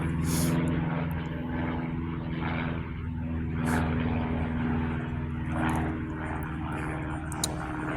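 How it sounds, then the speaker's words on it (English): A fixed-wing airplane passes overhead, its steady propeller-engine drone sustained as a low background rumble throughout, with no talking. "There's a plane overhead."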